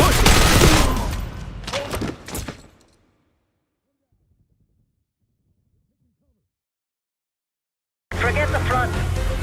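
Machine gun fire in the Call of Duty Black Ops 6 campaign comes in a dense, loud burst of shots for the first three seconds, then drops into near silence before loud battle noise returns at the end.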